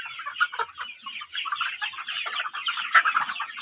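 A flock of chickens on a poultry farm clucks and chatters constantly, with many birds calling over one another at moderate loudness, close by and without talk.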